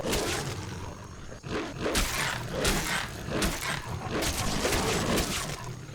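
In the video game Skyrim, a sabre cat roars in a series of loud, harsh snarling bursts layered over a rough background, close and aggressive, with no voices.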